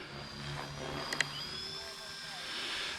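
A Blade 330S RC helicopter whines steadily overhead with a high, even rotor and motor tone, briefly rising as it performs a flip, under faint background noise.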